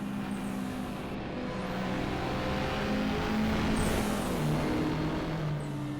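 Race car engine in the Assetto Corsa racing game drones steadily and loud throughout, a continuous rumble with shifting pitch as the car runs at speed, with no clear separate turbo bursts standing out.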